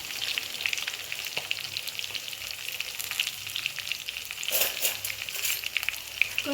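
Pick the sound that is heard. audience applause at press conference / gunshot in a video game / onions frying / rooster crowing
onions frying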